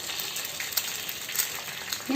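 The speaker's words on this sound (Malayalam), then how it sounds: "ഞാൻ ചൂടായ ചട്ടിയിലേക്ക് അടുത്തൊരു മുട്ട പൊട്ടിക്കുകയാണ്" An egg frying in a hot pan gives a steady, fairly quiet sizzle with fine crackling pops throughout, no voices.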